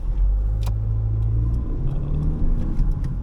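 A 2009 Hyundai i30 engine revs freely at high rpm, a loud, steady low drone with a pitch that shifts slightly partway through, heard from inside the car.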